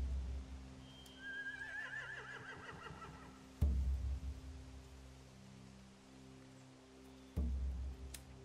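Horses neigh in a Walking Dead video game scene: a long, clear whinny with wavering pitch rises over a low ambient rumble and steady background drone, with heavy thuds breaking in twice.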